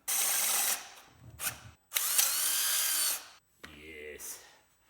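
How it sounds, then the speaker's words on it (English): A power drill boring through the steel frame of a Yamaha XT 250 motorcycle, loud close whining bursts separated by short pauses, ending with a lower grinding stretch as the bit slows. "I got the hole drilled through the frame using the mount as a template"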